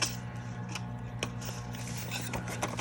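Quiet, close snips of scissors cutting paper at an angle, several short crisp cuts spread out over a faint background hum.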